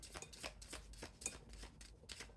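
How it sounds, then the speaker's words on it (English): A deck of cards riffles and shuffles in quick, crisp bursts, repeated several times close up with no talking. "I'll keep shuffling until I get one."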